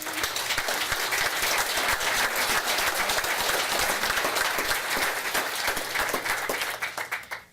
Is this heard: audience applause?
yes